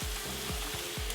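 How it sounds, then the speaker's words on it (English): Clams being added to garlic sizzling in butter, a close, steady frying hiss with a few low thuds as the shells land in the pan. "now that the garlic is getting a little bit on the golden side, we're gonna add our clams"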